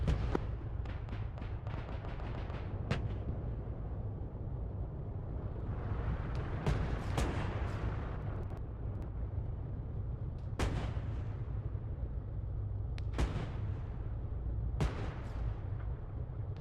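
Tank cannon fire in Arma 3 during a WW2 Sherman platoon battle: several sharp distant booms spaced seconds apart over a low rumbling engine drone.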